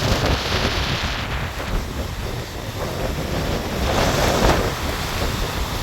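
Large ocean waves from an approaching storm at Jaffna roll and crash continuously, a loud broad roar of surf with wind buffeting the microphone and swells building toward the end.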